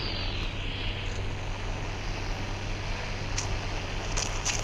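Airplane flying in the mobile game Indian Bike Riding 3D, a steady droning engine hum that holds evenly for the whole stretch, with no voices.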